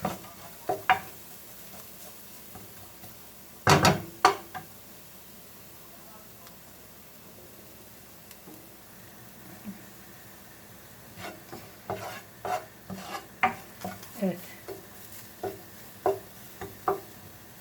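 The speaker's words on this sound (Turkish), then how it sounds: "Şöyle aroması çıkacak kadar şöyle bir kavurup" Shakshuka ingredients with ground pepper are sautéed in a pan, a soft sizzle under intermittent spoon stirring and scraping knocks, with a few louder clatters and a brief low voice.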